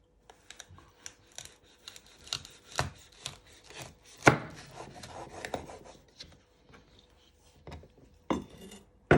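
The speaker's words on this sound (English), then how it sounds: "Then you want to chop it down the middle." A kitchen knife chops a red chilli on a chopping board, with a run of sharp, close knocks at an uneven pace, one hard cut standing out partway through, and no voices.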